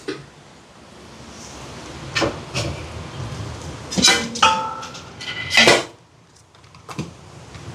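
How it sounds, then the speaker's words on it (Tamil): Metal utensil chopping and scraping seafood puttu kottu in a pan on a stove in a Jaffna kitchen, irregular clanks and knocks with pauses between bursts, fairly close. "இப்போ புட்டை அந்த அடுப்பில் போட்டுட்டு பார்த்திங்கன்னா இந்த மாதிரி உருணியாக கொத்தி எடுப்போம்"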